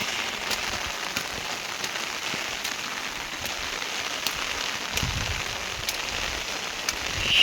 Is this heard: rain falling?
yes